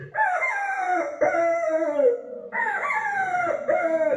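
A voice mimics a rooster crowing at a school mimicry competition, two long drawn-out cock-a-doodle-doo calls in a row, loud and close with no other sound.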